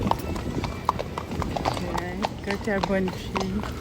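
Horses walk through a village, their hooves clip-clopping in a quick, irregular rhythm close by, with a short whinny and people talking over them.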